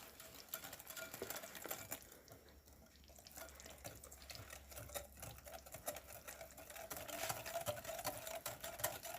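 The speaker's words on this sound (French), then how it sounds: "Et je fouette." Yogurt cake batter being whisked with sugar for a pear yogurt cake, a steady busy scraping and clinking texture that runs throughout at moderate level with no talking.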